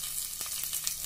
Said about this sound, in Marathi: मोहरी तडतडली की जिरं घालते आहे.